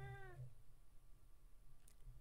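An indoor cat gives one clear, fairly close meow at the start, followed by near silence with faint room noise.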